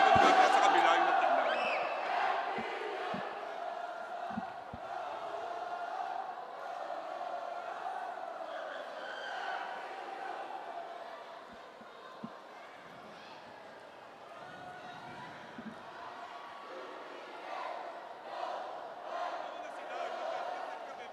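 A big indoor crowd at an NCAA Season 98 women's volleyball stepladder match between Perpetual and LPU roars and cheers, loudest at the start then settling into a sustained rumbling din, with broadcast commentary talking over it.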